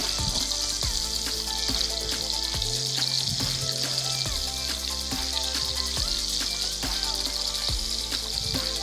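Pomfret fish and banana pieces fry in a hot pan of curry with a loud, continuous crackling sizzle and spattering pops, while faint tonal background music runs underneath.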